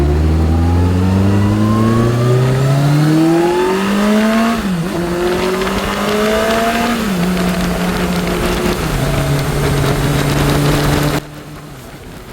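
A Kawasaki Concours 14 motorcycle accelerating hard to about 65 mph, engine rising in pitch through several gear changes, loud and close, then dropping to a quieter cruise at the end.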